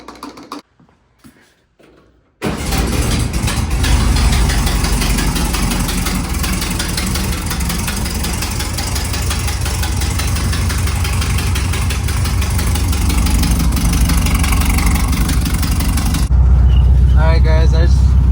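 A car engine on a hot summer day in Utah is cranked briefly a few times, then catches and settles into a loud, steady, close idle, revving slightly near the end.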